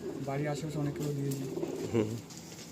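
A Kalanka high flying pigeon coos in low, rolling repeated phrases close by, with someone talking over and between the calls.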